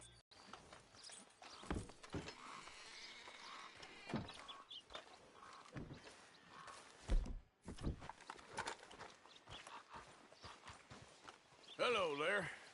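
Horse hooves clip-clop at a walking pace in Red Dead Redemption 2, with irregular close thuds and scrapes on hard ground and a brief voice near the end.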